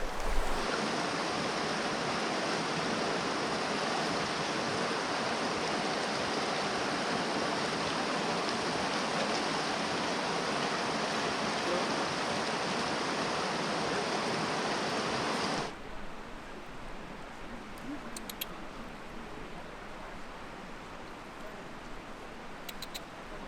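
Water flows steadily in a mountain creek in Kings Canyon National Park, a dense, continuous rushing roar close by that drops to a quieter, softer flow partway through as hikers finish wading across.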